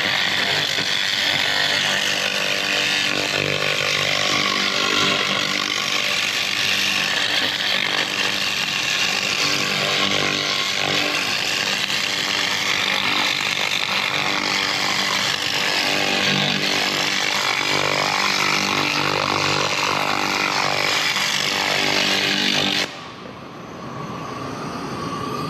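A 2000W laser cleaning machine strips rust from a weathered wheel rim, its steady, loud hiss and buzz running unbroken for over twenty seconds before cutting off abruptly near the end.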